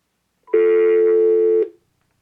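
A single steady telephone tone sounds for about a second, clear and close, signaling a dialed number that is not in service.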